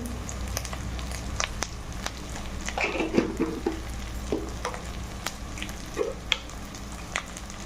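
Goat trotters sautéing with turmeric and salt in a pan, giving a steady low sizzle with scattered clicks and scraping stirs from a utensil. No one speaks.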